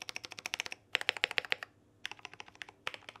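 Rapid bursts of keystrokes on a $26 budget mechanical keyboard with lubed stabilizers, clicking in quick clusters separated by short pauses, close and clear with no talking.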